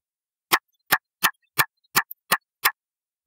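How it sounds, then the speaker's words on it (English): A recorded call of a lycaenid butterfly pupa: seven sharp, evenly spaced clicks, loud and isolated against silence, each a brief broadband snap at roughly a third-second interval. "Let's check out the pupa call."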